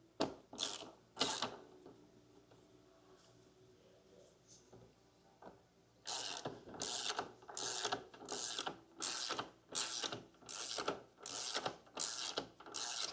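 Ratchet wrench tightening the wheel axle on a Harley-Davidson Low Rider ST motorcycle, a few isolated clicks followed by a steady run of about eight loud, evenly spaced ratcheting strokes close by.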